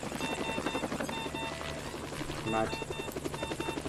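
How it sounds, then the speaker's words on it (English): Helicopter rotor thrum as it sets down beside a motorway during a police and ambulance incident, a steady chopping drone running throughout with people talking over it. "Never mind, helicopter lands on the other side of the motorway"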